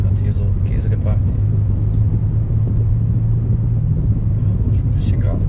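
A car's engine rumbles steadily at low revs during a first driving lesson, with a gear change to second, while an instructor talks over the continuous drone.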